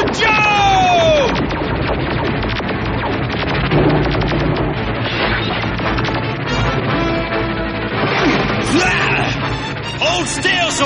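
Cartoon gunfire and explosive blasts during a ship pursuit. Dense, loud volleys of shots and booms run continuously with whooshing effects and shouted voices mixed in.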